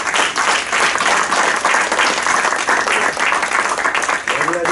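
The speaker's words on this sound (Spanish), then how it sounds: "denle un aplauso al Señor" A church congregation breaks into dense, sustained applause, many hands clapping loudly and continuously without a pause, with a faint voice coming through near the end.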